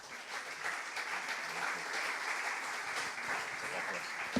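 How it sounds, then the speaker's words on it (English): Conference audience applauding at a talk on social change and innovation, a steady moderate patter of many hands heard from some distance in a large room, even in level for a few seconds without a clear break. "please, an applause."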